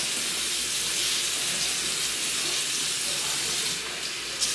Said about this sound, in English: Let me turn these folks' water off.